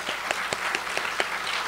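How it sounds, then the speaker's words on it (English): A crowd applauds steadily at an exhibition opening, dense clapping with a few sharper individual claps standing out, heard from within the room. "A big round of applause"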